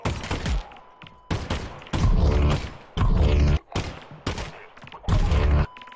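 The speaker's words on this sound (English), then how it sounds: "Can you guys stop throwing grenades?" Grenades in the virtual reality game Half-Life: Alyx go off as a rapid series of loud, booming blasts, about six heavy bursts with short gaps, each close and forceful.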